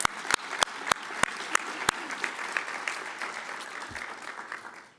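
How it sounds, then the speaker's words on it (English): Applause from an audience at a diversity talk, a handful of sharp nearby claps at the start giving way to a steady, softer wash of clapping that fades out toward the end. "Let's have a round of applause for her."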